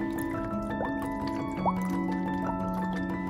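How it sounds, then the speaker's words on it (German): Water splashing up from a bottle drips and splashes with quick bubbly gurgles over a steady background hum, a few louder plops standing out. "Und lassen dabei das Wasser ordentlich hochspritzen."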